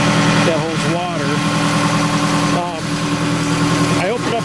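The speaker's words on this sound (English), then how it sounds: "There's the 5-cylinder diesel engine" A 2009 Volvo MW500 with a 5-cylinder diesel engine idles close by, a steady low rumble that runs the whole time while someone talks over it.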